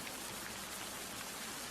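Steady autumn rain with wind, a dense continuous hiss of falling drops filling the whole moment evenly, close and fairly loud, no voices.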